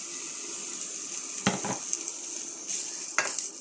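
Chopped onion tipped into heated oil or lard for a djuveč with smoked ribs, giving a steady close sizzle broken by a few sharp clatters of stirring against the pot.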